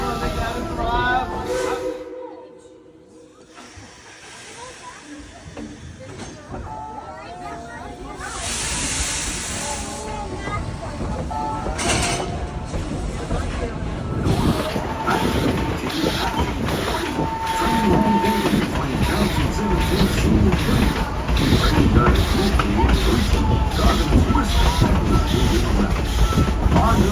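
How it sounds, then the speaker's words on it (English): Tweetsie Railroad's number 190 steam locomotive, Yukon 3, built in 1943, running with hissing steam, rhythmic clanking and rail clatter that builds steadily, heard close from the train, with a bell-like tone and some talk. "Our number 190 locomotive, Yukon 3, built in 1943."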